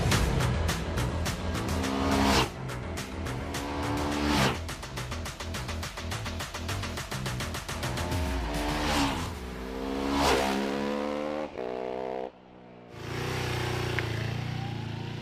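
A Ducati 999R V-twin motorcycle ridden hard, loud and close, its engine revving and climbing through repeated upshifts with brief dips between gears, then dropping out sharply before picking up again.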